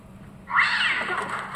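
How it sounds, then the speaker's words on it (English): A cat yowls loudly and close by in a long, wavering caterwaul that starts abruptly and holds for about a second, over a low rumbling background. "there is an insane cat down here"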